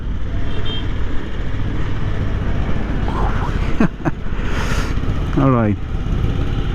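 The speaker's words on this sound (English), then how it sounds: "It's a 1000cc twin engine from Honda" Honda Africa Twin 1000cc twin-engine automatic motorcycle idling close by with a steady low rumble throughout, under a man's brief speech and a few passing sounds.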